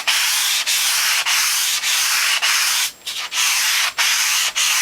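Steady abrasive rubbing of sandpaper across a stainless steel juicer top, in a loud, close, continuous scrape broken by brief pauses about every half second.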